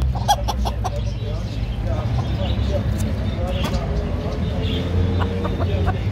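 Roosters and hens cluck at a busy Baghdad bird market, with scattered sharp clucks and calls over a constant crowd murmur and traffic rumble while someone talks close by.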